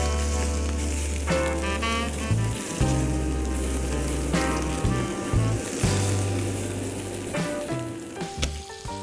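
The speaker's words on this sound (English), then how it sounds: "I put here some olive oil, not much, like this. And ribs in." Pork ribs fry in a little olive oil in a pan, giving a steady crackling sizzle with irregular pops and spatters throughout, close and moderately loud.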